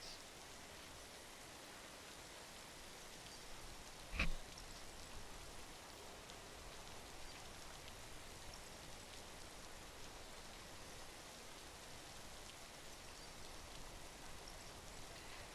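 Steady rain falling in the video game Death Stranding, a soft even hiss that fills the whole stretch at low level, with one brief sharp tick near the start and no voices.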